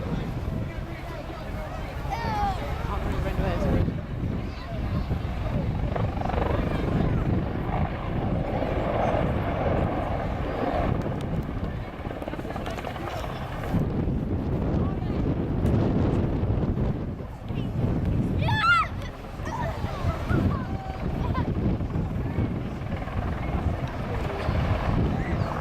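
A Boeing AH-64 Apache attack helicopter flies a display, its rotor and engine roar steady and loud throughout, with wind buffeting the microphone.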